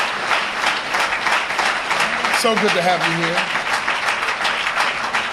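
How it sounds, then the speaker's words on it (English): A mosque gathering breaks into steady, dense applause that fills the room evenly throughout, and someone speaks briefly over the clapping partway through. "Let's give our dear brother a well-deserved round of applause."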